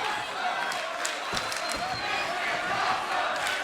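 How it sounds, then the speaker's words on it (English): A wrestling crowd at a Turning Point event makes a continuous roar of cheering and shouting, with a few sharp slaps or thuds standing out from the dense arena noise. "Crowd here at Turning Point, so respectfully watching this great competition"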